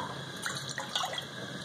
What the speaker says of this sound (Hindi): इसमें ये मैं 2 कप पानी डालूंगी।